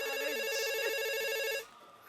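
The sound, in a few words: mobile phone ringing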